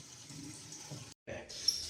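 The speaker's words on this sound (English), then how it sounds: "we're filling up our urn with 20 liters of water" Water runs into a brewing urn being filled to 20 liters for sparging, a soft steady rush with a brief break partway through.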